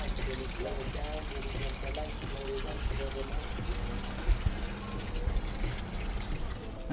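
Fluid drains from a Cadillac CTS-V during a parts install, a continuous trickling, pouring splash heard under a man's speech.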